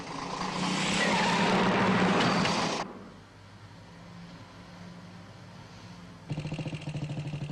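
A motorcycle ridden fast and recklessly toward a factory roars loudly up close for about three seconds, then drops to a low distant rumble before another sharp, rasping burst of engine noise near the end.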